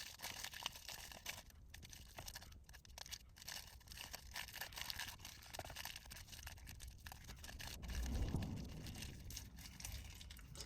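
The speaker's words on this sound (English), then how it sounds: "let me roll this real quick because I don't want the paper noise all in the background" Paper being rolled up gives off a long stretch of soft crinkling and rustling, close but faint, with scattered crackles and a slight swell near the end.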